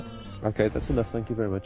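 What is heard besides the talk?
sheep bleating in the background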